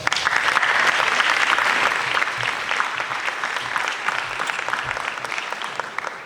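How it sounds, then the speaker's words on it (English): An audience applauding at a teacher of the year award ceremony, a steady full round of clapping from a crowd that carries on loudly and slowly tapers off. "Big round of applause."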